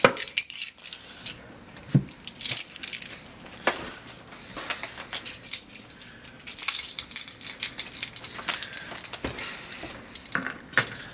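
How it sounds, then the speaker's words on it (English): A bunch of keys jingles and clinks close by in a house, in irregular bursts of metallic rattling throughout, with no voices. "the jingle of the keys"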